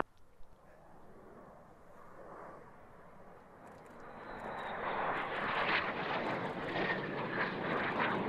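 Fixed-wing aircraft flying near RAF Mildenhall, its engine roar building steadily from a distant rumble to a loud, broad sustained drone as it draws closer, with no voices.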